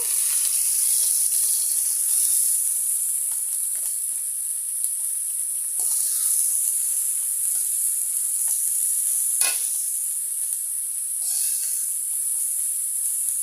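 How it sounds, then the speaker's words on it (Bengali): Chopped onions fry in a pan with a steady, loud sizzle and hiss, broken by occasional scrapes and stirs as they are moved around. "দুইটা পেঁয়াজ কুচি দিয়ে দিলাম হালকা লাল করে ভেজে নিব"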